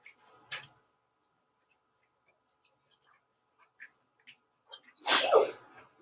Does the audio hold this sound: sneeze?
yes